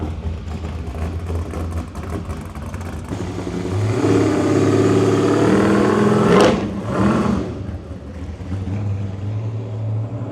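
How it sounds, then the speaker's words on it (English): An old V8 car engine running on race gas rumbles steadily, swelling into a louder rev midway before settling back to a low idle. "It's a good healthy old V8 right there on race gas."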